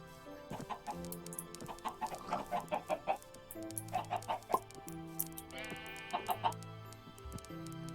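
Chickens in a farm-building video game cluck in quick, repeated bursts, several birds overlapping in a lively, rhythmic chatter close by, with game music tones underneath.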